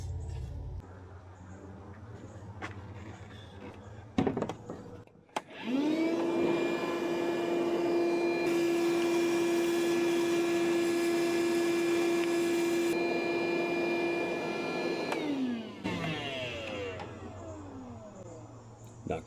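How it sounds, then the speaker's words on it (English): A shop vacuum starts up and runs at a steady, loud whine for about ten seconds, sucking fine crud off a part on a Burma Buggy CMP military truck, then spins down and stops. "See if I can get a vacuum on that."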